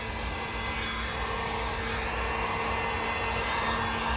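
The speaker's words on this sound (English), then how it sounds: "by facing the heat gun in," A heat gun blows steadily on a resin flower coaster, making a constant loud airy whoosh with an even motor hum, close and uninterrupted throughout.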